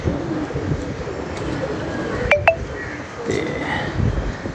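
Domestic pigeons coo softly outdoors in a strong wind, with a couple of brief chirps and a sharp clink near the middle over steady gusty rumble; no wingbeats stand out.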